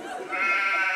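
A sheep bleats in a single drawn-out, wavering call, close and fairly loud, used as a comedy sound effect.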